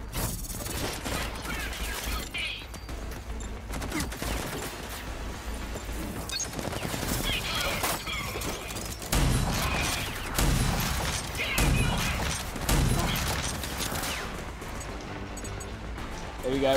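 Ranger assault rifle fire in the RAGE 2 video game, sharp bursts cracking out repeatedly and loud over a dense mix of game sounds and mechanical clatter, with someone talking throughout.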